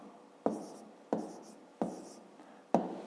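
A pen writes numbers by hand on paper in four distinct, scratchy strokes with short pauses between them, close and quiet against a silent background.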